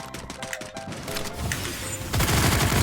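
Rapid bursts of automatic gunfire in a battle royale shooter, dense, close and loud, growing heavier and more continuous toward the end.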